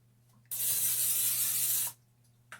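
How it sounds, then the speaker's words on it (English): A single steady hiss of cooking spray onto the bottom of a pan lasts about a second and a half, loud and close, then cuts off. "we are just going to lightly spray the bottom of our pan with some cooking spray."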